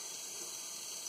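Warm water pours steadily from a tap into a container, heard as an even, close hiss of flowing water for the whole short stretch.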